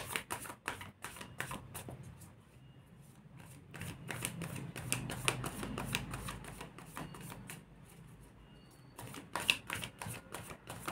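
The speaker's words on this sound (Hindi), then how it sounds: "कार्ड्स हम थोड़े से शफल कर लेते हैं" Tarot cards being shuffled, a series of crisp, quick riffling and flicking bursts in close, quiet surroundings, with pauses of soft background rustle between them.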